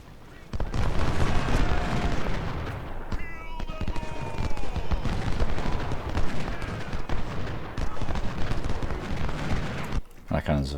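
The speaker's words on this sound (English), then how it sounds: "Our cannons are firing at the right targets." Cannon fire booms across a Civil War battlefield in the strategy game Ultimate General: Civil War at Chancellorsville, sustained and dense throughout with overlapping reports and battle noise, mixed under in-game voices.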